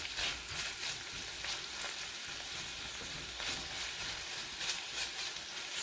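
Bitter melon, squash and garlic sauté in a pan, giving a faint, steady sizzle and crackle with soft stirring scrapes throughout.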